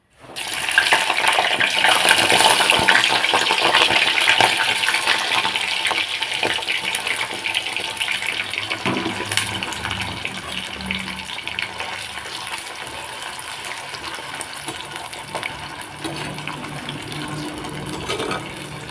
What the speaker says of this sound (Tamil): பாவக்காய் நல்லா அலசிட்டு அரிஞ்சு திரும்ப ஒரு தண்ணியில் போட்டு